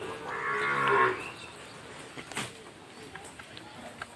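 Sahiwal bull calves let out one long, low moo, close and fairly loud, followed by faint scattered thumps and rustling.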